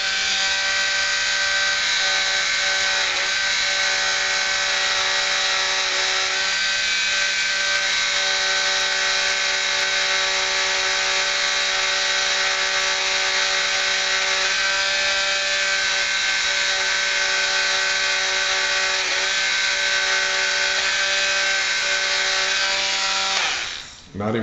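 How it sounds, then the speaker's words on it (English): A Dremel rotary tool runs steadily while lightly polishing the underside of a steel 1911 pistol disconnect, producing a continuous high-pitched whine with a harsh buzzing edge that holds for over twenty seconds before cutting off. "While we got the Dremel out, we're going to hit this real quick and very, very lightly. We're going to polish the underside of the disconnect"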